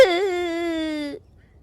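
A woman lets out a single drawn-out wailing cry in a dramatized Hindi story, loud and close, then silence.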